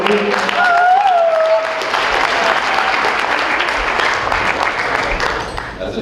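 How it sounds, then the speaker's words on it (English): Guests at a wedding reception applaud loudly for the full stretch, with dense steady clapping and a few faint whoops or voices mixed in, fading slightly toward the end. "How about a round of applause for James"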